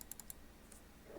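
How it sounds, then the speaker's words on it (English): Rapid mouse or keyboard clicks during an online card game, a few close, crisp ticks at the start followed by quieter scattered clicks over low background hiss. "Can you hear me clicking?"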